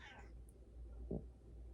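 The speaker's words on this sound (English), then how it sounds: "what's up, Kitty?" A cat gives a single short meow partway through, fairly close, over a low steady background hum with no talking.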